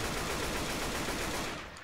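Dense automatic gunfire rattles continuously at close range in the zombie shooter Left 4 Dead 2, loud and unbroken before cutting off at the end.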